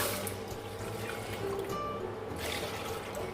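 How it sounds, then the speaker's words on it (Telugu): Two glasses of raw milk, about half a litre, run into a pan for semiya sabudana payasam, making a steady soft trickling pour that continues throughout. "టూ గ్లాసెస్ అనేది ఇక్కడ పాలు యాడ్ చేస్తున్నానండి టూ గ్లాసెస్ పాలు హాఫ్ లీటర్ పాలు అనమాట"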